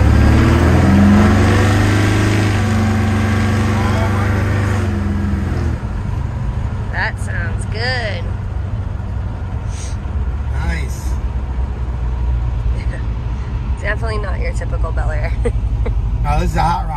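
A supercharged 283 V8 in a 1955 Chevrolet Bel Air hot rod idles, then revs and pulls away hard, the roar holding loud and steady with some squeaks and clicks over it.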